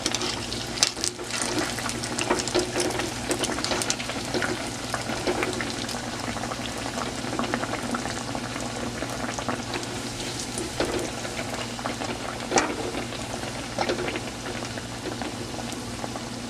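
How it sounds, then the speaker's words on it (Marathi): Bread pakodas dipped in gram flour batter fry in hot oil, giving a loud, dense, continuous bubbling sizzle that holds steady throughout, with no voices. "असं त्या बेसनच्या मिश्रणामध्ये असं बुडवून आपल्याला हे तेलात सोडायचं आहे"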